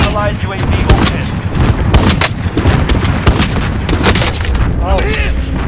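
Dense, loud gunfire in a multiplayer shooter game, with rapid automatic bursts and heavy booms running nonstop, mixed with in-game voices and effects.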